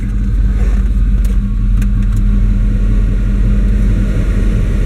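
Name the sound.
car engine with throttle body injection running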